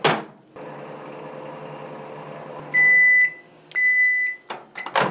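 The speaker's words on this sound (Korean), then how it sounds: "이렇게 해서 1분을 전자레인지에 돌려줍니다" A microwave oven hums steadily for a few seconds while drying anchovies for broth, then two long electronic beeps sound, followed by door clicks and handling noises.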